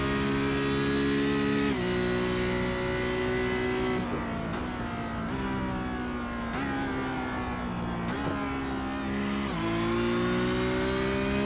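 A Porsche Cup race car in a racing video game screams along Silverstone's Hangar Straight, its loud, steady engine note climbing repeatedly and dropping at each quick upshift.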